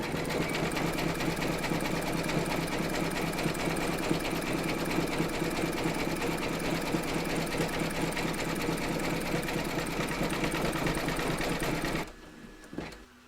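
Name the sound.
embroidery machine stitching satin stitch zigzag border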